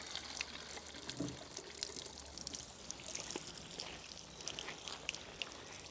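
Cold spring water from God's Acre Healing Springs in rural South Carolina runs into a water bottle, a soft steady trickle and splash with faint outdoor background.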